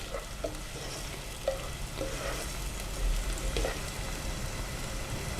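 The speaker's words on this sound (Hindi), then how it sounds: "थोड़ा ऑयल और डालेंगे हम, लगभग 1/4 कप हो गया ऑयल हमारा, ताकि अनियन भी अच्छी तरह फ्राई हो जाए" Onions frying in about a quarter cup of oil for a spinach egg curry give a steady, close sizzle, broken by a few soft scrapes of stirring.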